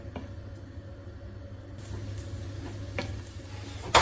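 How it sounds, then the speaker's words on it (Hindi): Garlic fries in a pan for rice with gravy, a soft, steady sizzle over a low background rumble, brightening and intensifying partway through, with a few faint clinks and no talking. "ये जी मैंने लहसुन डाल दिया, इसको हम तकरीबन 10 से 15 सेकंड के लिए फ्राई कर लेंगे।"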